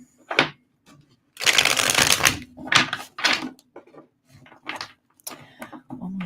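Tarot cards shuffled by hand in several quick riffling bursts separated by short pauses, close and crisp.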